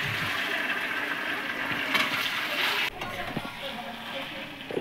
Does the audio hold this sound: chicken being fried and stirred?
yes